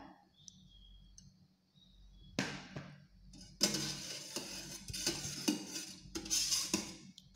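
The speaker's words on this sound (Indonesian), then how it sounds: "Kita aduk sampai rata." Agar is stirred by hand into orchid tissue culture media solution, making soft clicking and scraping with quiet scratchy rustles that grow louder and busier in the second half.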